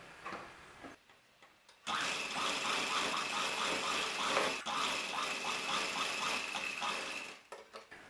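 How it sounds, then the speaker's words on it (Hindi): A sewing machine stitches cloth onto buckram while making a dhoti salwar, starting up after a short pause and running with a steady, rhythmic whirr for about five seconds before stopping. "इसके ऊपर हम इस कपड़े को इस तरह रखेंगे और सिलाई लगा लेंगे।"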